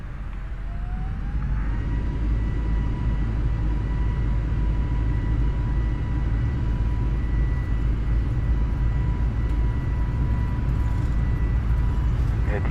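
Twin jet engines of a simulated Airbus A320 (FBW A32NX) spooling up for takeoff at Athens, a steady loud roar with a rising whine that settles into a sustained tone, with no pause for the full length.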